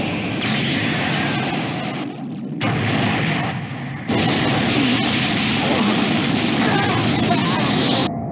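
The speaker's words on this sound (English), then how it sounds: "now he's ready to fire. So he does. Special beam cannon!" Piccolo's Special Beam Cannon from Dragon Ball fires as a loud, sustained roaring energy blast with booming surges, continuous for several seconds, mixed with a voice.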